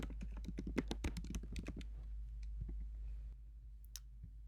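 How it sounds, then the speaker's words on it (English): Quick bursts of keyboard clicks as an account name is typed, a close run of taps in the first two seconds, then a few sparse keystrokes fading to near silence. "Type in your account name that you want."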